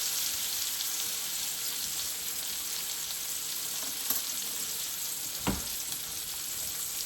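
A ribeye steak sizzles in a hot pan with a steady, fairly quiet frying hiss, broken by a faint clink and then a sharper knock as the meat is laid back down.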